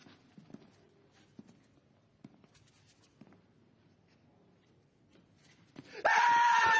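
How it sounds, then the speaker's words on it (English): A loud, sustained scream bursts in at the end after quiet shuffling and scattered taps. "Why are you screaming like a goddamn little girl?"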